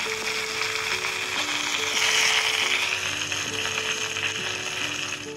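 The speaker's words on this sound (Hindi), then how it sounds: "जैसे ही तेल गर्म हो जाए कटे हुए भिंडी को हम तेल में डाल के अच्छे से फ्राई कर लेंगे" Sliced okra frying in hot oil in a kadai over medium flame, a steady broadband sizzle running throughout with a constant hum beneath, close and fairly loud, no voices.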